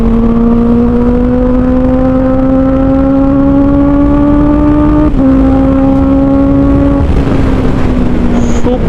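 Honda CBR 650R motorcycle engine while riding, a loud, steady inline-four drone climbing slowly in pitch, briefly dipping as the rider shifts, with wind rush throughout.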